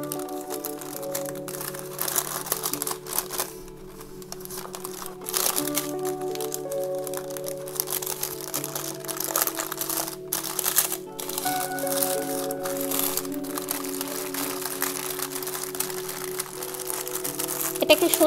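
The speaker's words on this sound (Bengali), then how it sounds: "এটাকে এখন আমি এই র্যাপিং পেপারের সাথে মুড়িয়ে নেব" Chicken shawarma being wrapped in wrapping paper: repeated close crinkling and crackling of paper, continuous and fairly loud, with soft background music underneath.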